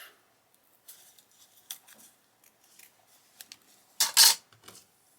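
Scissors trim paper for a junk journal made from old envelopes and vintage postage stamps: quiet scattered snips and paper ticks, then one louder, close double cut near the end.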